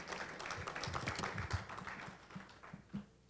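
Faint audience applause for a guest speaker at a Uganda–Canada business expo in 2018, a dense patter of clapping that thins out and fades toward the end.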